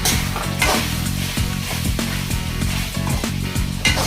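Chicken fries in a pan with a loud close sizzle, broken by repeated rhythmic scraping strokes of a spatula every half second or so, with no speech.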